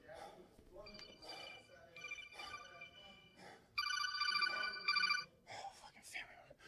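A telephone rings with bright electronic trilling bursts, repeated several times and loudest near the middle, while people talk over it in a room.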